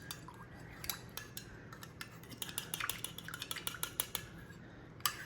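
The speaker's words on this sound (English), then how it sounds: "You just stir it up." A spoon stirs a cracked egg into very hot bone broth in a pot, giving a quick series of close, light metallic clinks and scrapes over a faint sizzle.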